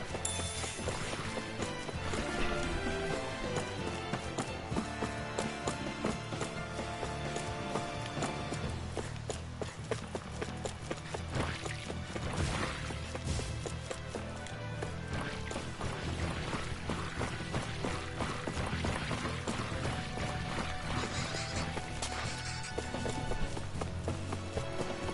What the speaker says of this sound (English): I've never stood so close to a waterfall like this before.